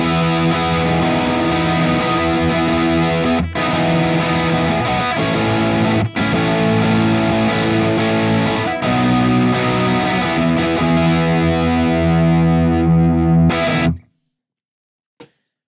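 Electric guitar played through a compressor pedal with presence turned fully up, continuous sustained distorted chords and riffs, loud and close, stopping abruptly near the end with one faint click after; no talking.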